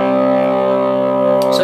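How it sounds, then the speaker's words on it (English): A sustained, buzzy distorted guitar tone rings out steadily through a Squier/Fender SP-10 amp, bright, trebly and harmonically rich, with no pause for the whole stretch. "the distortion is very trebly off its nature"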